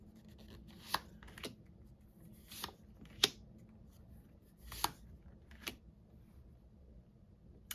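Quiet, sporadic riffles and soft taps of tarot cards being shuffled and laid down, about seven brief bursts over a hushed background.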